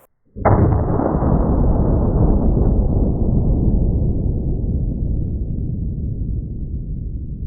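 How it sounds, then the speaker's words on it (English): A Smith & Wesson Performance Center 460 Magnum revolver firing a 300-grain Underwood jacketed hollow point: one very loud, abrupt shot followed by a long, rumbling decay that fades slowly for several seconds. "This is a Smith & Wesson Performance Center 460 Magnum, and I have some Underwood ammo, 300 grain, jacketed hollow points."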